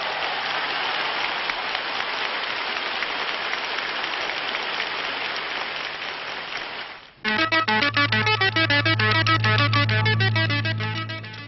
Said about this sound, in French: vous demande maintenant de vous lever et de manifester par vos applaudissements votre sympathie pour les victimes